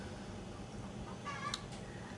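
Soft chicken clucks in a quiet outdoor setting in Ghana, with a brief burst of calls near the middle before the low background hum continues.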